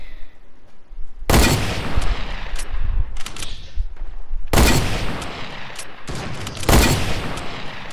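Video game gunfire: loud sniper and rifle shots crack out in three heavy bursts with dense rattling fire between them, close and continuous for the whole stretch.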